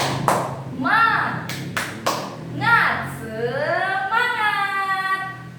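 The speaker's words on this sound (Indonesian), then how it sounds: "Kita tepuk semangat dulu sama-sama." A classroom of children performs a clapping chant, with a few sharp rhythmic claps mixed with a teacher's and children's voices chanting and speaking loudly nearby.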